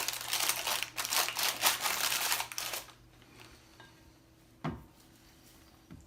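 Parchment paper crinkling loudly up close for about three seconds, followed by quiet and a single sharp rustle or thump, in a kitchen while baking pumpkin bread.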